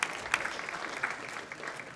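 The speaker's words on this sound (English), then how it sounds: "please also a round of applause for Mark Rue." A banquet audience at an athletics hall of fame dinner gives a short round of applause, with scattered sharp claps over a soft, fairly distant patter.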